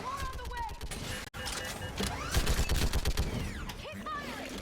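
Sci-fi gunfire in a Mass Effect 3 battle on Thessia, rapid bursts and sustained volleys filling the mix under shouted voices and other battle noise.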